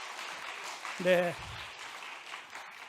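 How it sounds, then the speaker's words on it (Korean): Clapping from a youth worship congregation in a church rises as a soft, steady patter of applause, partly under a brief spoken word from a man. "박수 한번 내주시겠어요?"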